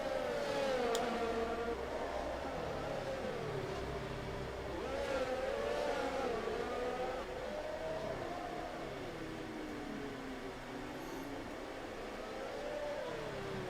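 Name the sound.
F1 race cars driving in Monaco, F1 video game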